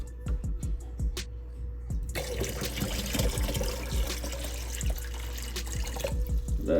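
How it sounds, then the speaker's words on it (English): Water is poured into a container of sea moss, a continuous splashing trickle with small drips and gurgles, close up and alone. "So add a little bit more water just to be safe."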